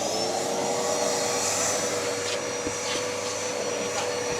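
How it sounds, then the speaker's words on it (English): A vacuum cleaner runs steadily on the carpet of a BMW M3 with the seats removed, a loud continuous whine with brief dips as the nozzle shifts and catches against the floor. "One thing that's always good to do when you're taking seats out is to vacuum the carpet"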